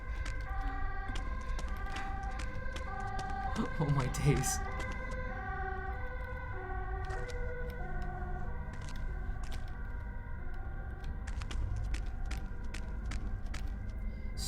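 Sirens wail outside during a Fatal Frame IV horror game playthrough, a steady faint rising-and-falling tone running under game audio and a man's brief exclamation.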